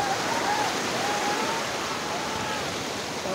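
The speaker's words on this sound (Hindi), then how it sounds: "देवदरी के झरने का पानी जो गिरता है, ये पानी ऊपर से कैसा दिखता है, कितना तीव्र गति है इसकी" Devdari waterfall pouring down fast, a dense, steady rushing roar heard up close, continuous and loud with no breaks.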